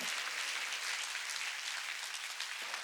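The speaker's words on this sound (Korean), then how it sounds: "박수로 하나님께 영광을 돌려야 된다" A church congregation at a mountain revival meeting claps steadily in sustained, even applause, heard fairly faint and alone without any voices.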